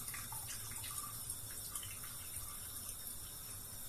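Soaked grain is lifted from a tray of water and left to drain, giving a faint, steady trickle and patter of water running off close by, with no talking.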